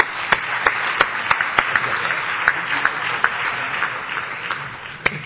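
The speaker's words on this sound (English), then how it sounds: "Let's give them all a big round of applause." An audience at a US Conference of Mayors awards event breaks into sustained, dense applause for the mayors, with a few louder individual claps standing out over the steady crowd clapping.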